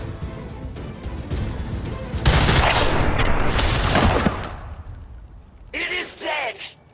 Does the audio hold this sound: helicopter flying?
no